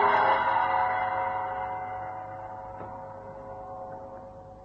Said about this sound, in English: A gong sounded deep inside the building.